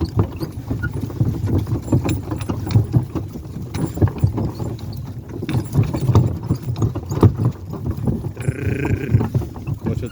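Steady hoof clip-clops from draft horses walking at an even pace, with faint outdoor rustle and a brief tonal squeak near the end.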